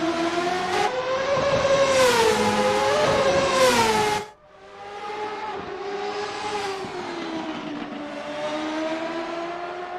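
Indycars race at Monza in a racing game, a loud, high-pitched engine howl sweeping up and down through the gears, cutting off sharply midway before another car's wailing engine rises again, with no talk.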